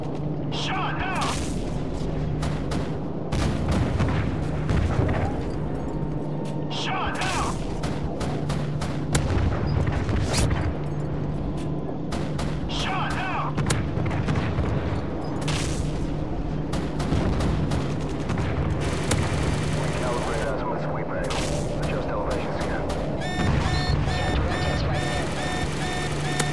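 Heavy cannon and gunfire from an AC-130 gunship in Call of Duty: MW3 multiplayer, with a dense, continuous barrage of booms and rattling shots alongside other battle noise, under radio-style voices speaking.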